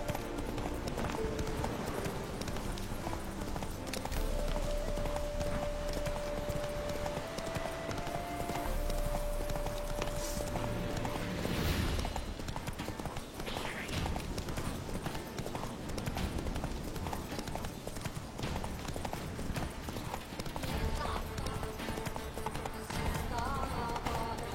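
Horse hooves clip-clop steadily throughout a ride, a continuous rhythmic gait under faint background activity, with a brief rider's call mixed in.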